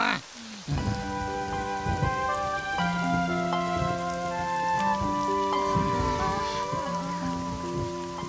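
Steady rain patters throughout, with cartoon-style musical tones playing over it and no voices.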